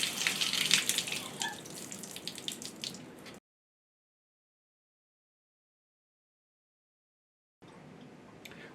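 Rushing water gushes loudly from a tap for a few seconds, stops into silence, then resumes more quietly near the end.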